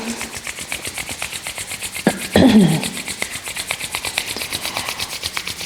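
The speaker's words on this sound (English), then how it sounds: "Bring both your palms together in front of your chest. And rub them together." Palms rubbed briskly together during a guided meditation, a short dry swishing friction lasting under a second near the middle, set against a steady ticking background with a faint sharp knock just before.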